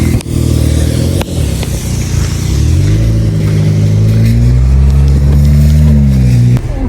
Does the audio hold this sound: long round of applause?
no